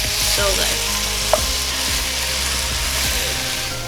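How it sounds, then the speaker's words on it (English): Tomato paste cooks into vegetables in a pan with a continuous close sizzle and frying crackle, plus occasional scrapes and stirring clicks, with no voices. "you really want to cook your tomato paste into your vegetables"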